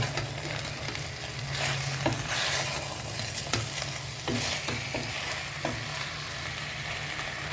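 Chicken pieces for a stew sizzle and fry in a pan while a utensil stirs them, scraping and knocking against the metal in irregular strokes over a constant close frying hiss, with no talking.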